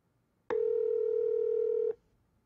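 A single steady electronic tone from an iPhone 3GS voice control prompt, about a second and a half long, clean and alone with no voices.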